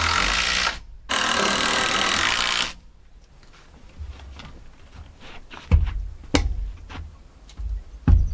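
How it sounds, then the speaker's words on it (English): Power screwdriver driving screws into OSB sheathing on a 16x40 cabin, two sustained whirring bursts at the start followed by quieter knocks and a few sharp thumps of handling the board. "we're just going to do a couple of screws to hold it in place"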